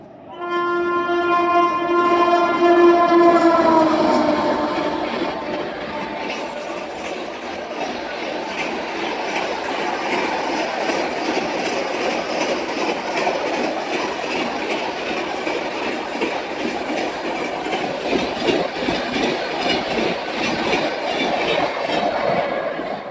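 The Dibrugarh–New Delhi Rajdhani Express sounds its horn loudly for several seconds, then the long train rumbles and clatters steadily past, close and continuous.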